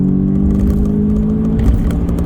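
An Audi S3 8V saloon at Stage 1 tune accelerates hard, its engine a loud steady droning roar heard from inside the car, continuous and close, with no talking over it.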